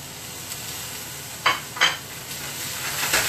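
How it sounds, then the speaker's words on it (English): Farro grains, larger than ordinary rice, sautéing in a pan, giving a faint steady hiss with a couple of brief scraping stirs partway through and a slight rise near the end. "Now we're just gonna saute this off."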